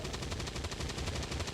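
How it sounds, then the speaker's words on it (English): Gunfire in the XCOM 2 strategy video game during a pistol shot turn, a dense, loud burst of rapid crackling reports running the full length with no talk over it. "we're gonna go ahead and do the pistol shot"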